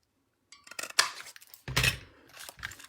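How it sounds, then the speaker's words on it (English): Scissors snip and trim a rich raspberry cardstock layer for a handmade card, giving a few close, crisp cutting and rustling sounds in short bursts with no talking. "I'm going to trim the rich raspberry a little bit"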